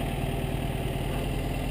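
A 1952 MG TD with a rebuilt engine idles steadily after starting, a low, even, continuous rumble close by with no talk over it.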